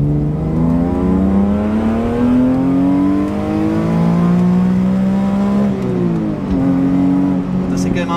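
A BMW M3 E46 Touring's straight-six revs hard, its harmonics climbing and falling in long sweeps toward 8300 rpm, loud and close with a booming resonance from the estate's rear load area.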